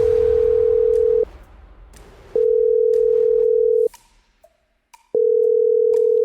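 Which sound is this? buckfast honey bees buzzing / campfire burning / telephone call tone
telephone call tone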